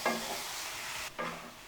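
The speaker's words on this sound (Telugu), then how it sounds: "చికెన్ని వేసి ఒకసారి బాగా కలియబెట్టండి." Chicken sizzles and fries in a pan while a spoon stirs it, with two scraping strokes over a continuous hiss for a chicken pulusu; no talking.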